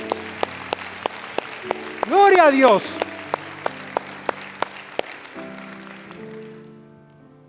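Church congregation applauding during a sermon, with sharp, evenly spaced claps over a steady crowd wash, a voice calling out loudly near the middle, and sustained music tones underneath.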